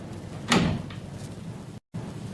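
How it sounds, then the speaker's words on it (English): A door handle at the end of a hospital corridor is tried against a door blocked from inside, giving a short rattling thump and scrape up close, then a brief quiet stretch in a radio drama scene. "I can't open the door."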